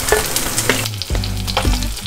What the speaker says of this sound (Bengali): আর সাদা তেলে ফ্রাই করছি।